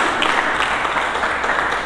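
A church congregation claps together, a steady, even wash of applause at moderate volume for a couple of seconds, with no speech over it.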